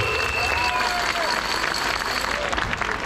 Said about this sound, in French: On va applaudir les manifestants.